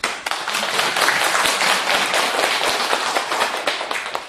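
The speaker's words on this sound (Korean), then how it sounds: "박수." A small audience claps steadily and fairly loudly for several seconds, a dense patter of hand claps from a gathering at a healing talk, with no voices over it.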